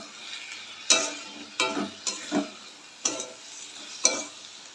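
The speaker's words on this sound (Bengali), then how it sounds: "এবার খুব ভালো করে নেড়ে মিশিয়ে নেবো" Spoon stirring and mixing a cooked watermelon-rind and tomato curry in a pan, with about half a dozen sharp scraping strokes at a steady pace over a soft background sizzle, close and clear, no talking.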